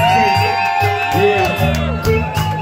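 A crowd at a live rap show at Quartier Libre cheers, whoops and shouts loudly and continuously, with voices and cries rising over a dense wall of noise.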